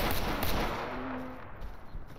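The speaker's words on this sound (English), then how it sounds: "Let's let this guy shoot me a couple more times here." Gunfire from an enemy in the STALKER Anomaly video game, a burst of loud, rapid shots early on that trails off into a rough, noisy rumble.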